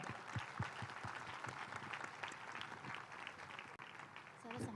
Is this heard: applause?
yes